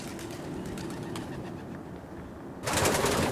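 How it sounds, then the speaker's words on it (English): Racing pigeons coo and rustle in a loft under a steady background hum, then a burst of flapping wings or noisy movement near the end. "the young birds trap into a Sputnik, then into a super trap, which Eric built himself"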